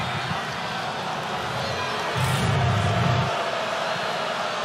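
A standing crowd roars continuously at a college men's basketball game between Pitt and Miami, swelling louder for a moment midway, with faint commentary mixed in.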